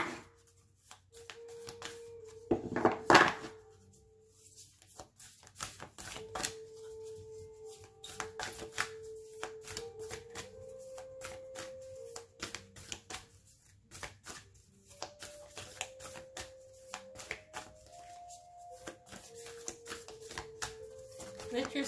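Tarot advice cards are shuffled by hand: a brief riffling burst near the start, then soft scattered card taps and shuffles continue quietly and intermittently, with a faint tone running underneath.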